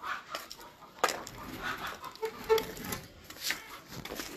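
Hens clucking faintly in a quiet setting, scattered short calls rising now and then over low background noise, with a slightly louder burst near the start.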